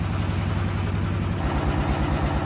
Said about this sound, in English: Can you turn the engine off